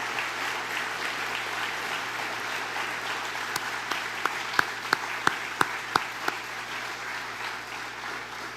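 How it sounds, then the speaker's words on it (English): Sustained audience applause at a high school National Honor Society induction ceremony, steady dense clapping filling the room with a few sharper individual claps standing out near the end. "let's give them one more round of applause to both our veterans and new inductees."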